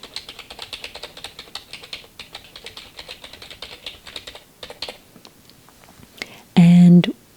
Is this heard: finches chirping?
no